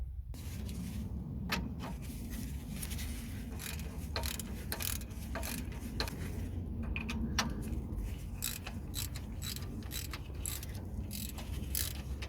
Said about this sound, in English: I'm not quite done with the unscrewing yet.